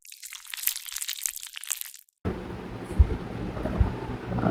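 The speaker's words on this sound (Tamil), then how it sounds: "நல்லா இந்த 2 லேயர்ஸும் மிக்ஸ் ஆகுற மாதிரி ஒரு ஷேக் பண்ணிப்போம்." A two-layer Hyphen serum bottle is shaken hard, giving about two seconds of rapid, rattling, sloshing bursts that stop abruptly and leave only quiet room noise.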